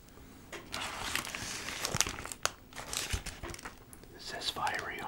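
Burger King burger wrapper paper crinkles and crumples close up in repeated rustling bursts, with soft whispering underneath throughout.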